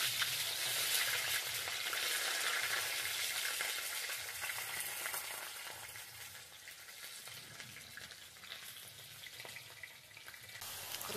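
Chopped onions frying in a pan, a steady dense sizzle with occasional stirring scrapes, fairly quiet and close, slowly easing off over time.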